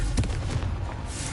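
A Confringo spell explodes in the Hogwarts video game, a dense, booming blast with a steady low rumble and crackling texture that stays loud and close for the whole moment.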